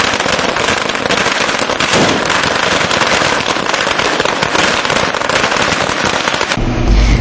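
A long, dense string of firecrackers bursts without pause at an outdoor Kargil Vijay Diwas celebration in Vadodara, loud and close, crackling continuously.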